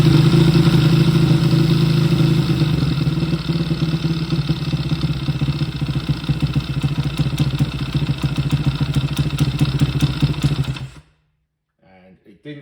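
A Zongshen 212 small engine idles low and steady with a loud, rough mid-pitched chug, running alone for about eleven seconds before cutting off abruptly into near silence.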